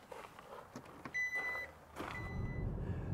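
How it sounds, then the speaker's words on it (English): Inside a Hyundai IONIQ 6 electric saloon car, a short electronic chime sounds, followed by a low, steady hum as the car begins driving quietly. "so let's go for a drive"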